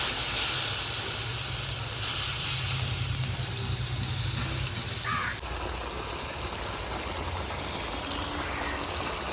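Water poured into a kadai of hot oil and mutton hisses steadily, a broad, continuous steam-like sizzle that swells briefly and then settles into a softer, even hiss.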